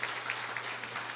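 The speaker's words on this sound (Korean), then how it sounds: "우리 박수 한번 하고 넘어가야 되지 않겠습니까?" A church congregation claps in a short, moderate round of applause during a Sunday worship service.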